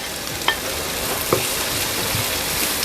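Onions sauté in a pan with a dense, even sizzle that fills the moment, marked by a couple of brief spoon knocks as they are moved around.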